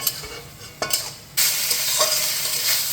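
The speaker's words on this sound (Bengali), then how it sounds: "এবার আমি এটা ভালোভাবে মিশিয়ে ভাজা হতে দেবো" Chicken pieces coated in turmeric fry in a pan, with a few spoon scrapes at first and then a loud, steady sizzle as the stirring continues, heard up close with no talking.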